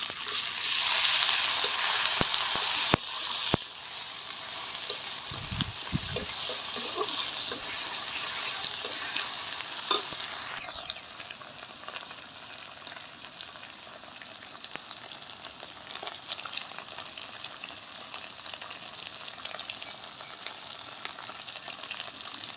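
Ginger-garlic paste sizzles loudly in hot oil with browned onions for a papaya chicken curry, a dense, steady frying hiss that softens partway through and carries on more quietly, with no talking.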